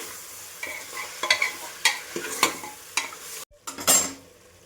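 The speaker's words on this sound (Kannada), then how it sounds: "ಒಂದು ಸ್ವಲ್ಪ 5 ನಿಮಿಷ 10 ನಿಮಿಷ ಚೆನ್ನಾಗಿ ಫ್ರೈ ಮಾಡಿ." Mutton chops fry in a pan with a loud, constant sizzle, while a spoon stirs and scrapes against the metal in repeated close strokes.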